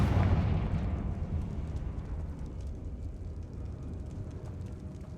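In Hogwarts Legacy, a Confringo blasting spell explodes with a heavy boom at the start, then a long rumbling decay that slowly fades while staying steady and loud.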